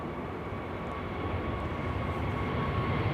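An ITA Airways airliner takes off at Amsterdam Schiphol Airport, its engines a broad, steady roar that swells slightly, heard from a distance with no talking.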